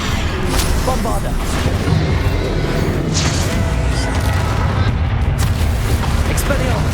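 Repeated Bombarda spell blasts from the video game Hogwarts Legacy, deep booming explosions over continuous loud battle noise, with no voice talking over them.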